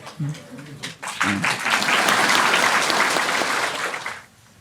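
A couple of brief spoken phrases, then an audience breaks into steady applause that swells, holds for a few seconds, and fades out.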